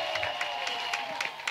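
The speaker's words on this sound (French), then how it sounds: "Clap offering to Jesus." A church congregation clapping in praise to Jesus during a testimony service, a busy patter of many hands mixed with crowd noise and a sustained tone, moderately quiet and continuous throughout.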